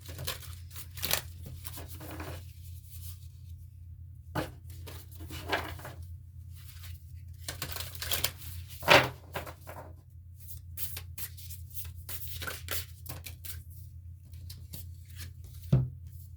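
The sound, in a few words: shuffling and drawing Sacred Forest Oracle cards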